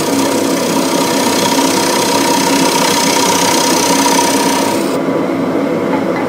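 A wood lathe turning a wooden box lid while a tool lightly shaves off the rim, giving a steady loud motor drone with a gritty scraping texture throughout, the high cutting rasp dropping away near the end.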